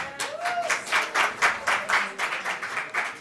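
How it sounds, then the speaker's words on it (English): Applause welcoming an author guest at an event: a small group clapping in distinct, rhythmic bursts, fairly close, with a brief voice sound early on. "So applause, please."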